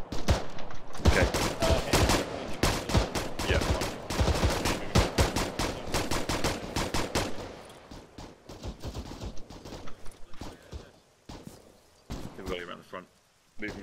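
Gunfire in a military video game defending a supermarket, with dense bursts of rapid shots early on that thin into scattered sporadic shots later, close and loud, with voices talking over the shooting.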